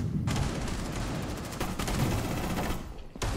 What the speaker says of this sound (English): Bro, pull out the shotgun on headshot only.